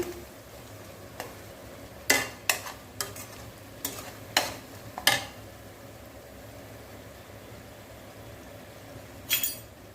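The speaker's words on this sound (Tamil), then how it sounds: "அடுப்பை சிம் பண்ணிகிட்டே வதக்குங்க" Mint, coriander and curry leaves are sautéed over a low flame, with a soft, faint sizzle beneath a handful of sharp scraping strokes of a spatula against the pan, bunched together and then one more near the end.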